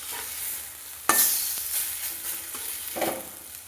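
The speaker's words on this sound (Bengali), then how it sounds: "দেখুন এরকম ওলট পালট করে লাল লাল করে একটু ভেজে আনছি" Mung dal fritters (bora) sizzle steadily in hot oil as they are turned over, with a sharp clatter of the spatula partway through and softer scrapes afterward.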